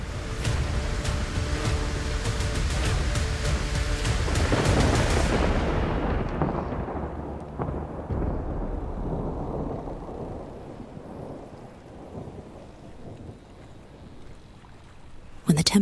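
A stormy sea with rolling thunder and heavy crashing waves, a dense roaring wash that gradually fades and thins toward the end, with a narrator's voice over it.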